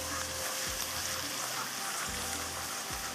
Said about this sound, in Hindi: लहसुन और चॉप की हुई अदरक। इसको थोड़ा फ्राई करेंगे